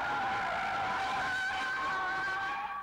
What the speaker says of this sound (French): quand tu prends ta glisse, c'est vraiment une glisse progressive, très constante, très facile à gérer